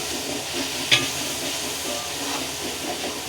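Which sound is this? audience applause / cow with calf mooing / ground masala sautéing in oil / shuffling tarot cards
ground masala sautéing in oil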